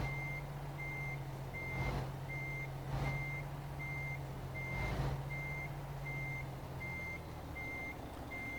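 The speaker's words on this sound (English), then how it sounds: "Let's just do a gigantic reversing exercise." Repeating reversing beeps from a truck in Euro Truck Simulator 2, sounding at a steady regular rhythm over a constant low engine idle, with a few soft puffs of air from the brakes along the way.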